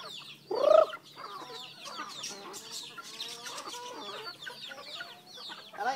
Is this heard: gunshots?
no